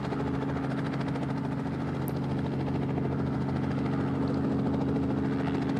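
A helicopter in the video game VoxelTurf gives a steady, droning rotor and engine hum that holds an even level throughout, with no voices over it.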